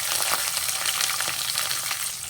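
Chopped onions frying in hot oil with mustard seeds and curry leaves for masala chitranna, a dense, continuous sizzle with faint crackles and stirring, close and steady, with no voices.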